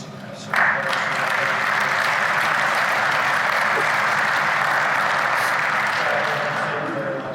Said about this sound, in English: everybody to give a round of applause to the Senior Master Sergeant